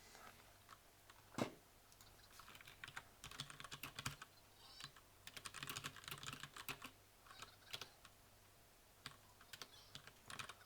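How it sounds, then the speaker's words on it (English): Rapid, uneven keystrokes on a computer keyboard clatter in quick bursts with short pauses, close and fairly quiet, with no voice over them. "if I'm typing this"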